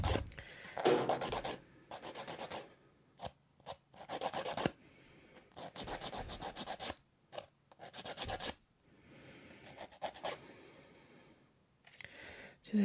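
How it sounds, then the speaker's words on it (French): A nail file rasps against a fingernail in close, bursty strokes, some quick and repeated, others longer, with short pauses between sets, up close and fairly soft. "Ensuite je vais limer pour que ce soit la même taille que le reste."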